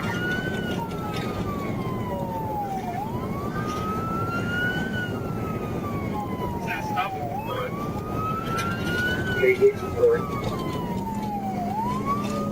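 Police car siren wailing during a high-speed chase, rising and falling in long repeated sweeps over a steady engine and road rumble, loud and close, with a few brief knocks near the end.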